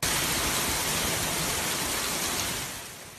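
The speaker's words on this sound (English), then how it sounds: "Heavy rain and strong monsoonal winds hit the mountains and deserts of Southern California today." Heavy monsoon rain driven by strong winds in Palm Springs, Southern California, roars as a dense, loud, even hiss of downpour that eases slightly near the end, with no voices.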